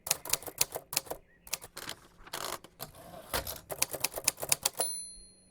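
Rapid typewriter keys clacking in quick bursts with brief pauses, ending in a ringing carriage bell, close and clear with no talking.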